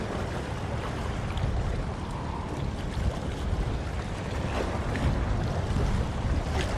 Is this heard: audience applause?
no